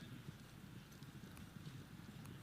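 Horse hooves drum on a polocrosse field at a high goal match, a steady rapid clip-clop of galloping under faint background noise.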